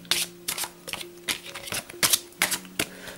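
Oracle cards are shuffled for an angel card reading, giving crisp, papery riffling bursts in a quick, uneven rhythm, close and fairly loud, with no talk.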